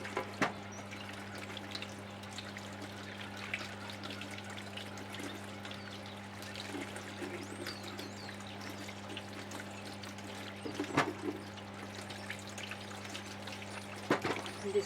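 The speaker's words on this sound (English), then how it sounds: "I'll just let it wash down the drain" Water pours and trickles steadily down an outdoor garden drain, a soft continuous wash with a low hum beneath it and a few faint sharper drips or knocks, no speech.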